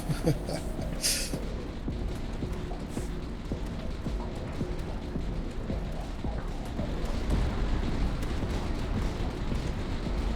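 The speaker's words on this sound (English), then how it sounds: "They're going to stay in the death zone for that much longer off the mortars." Mortars fire in the tower defense game Tower Dominion as a continuous layer of dull booms and rumbling battle noise, with a sharper burst early on, loud and dense throughout.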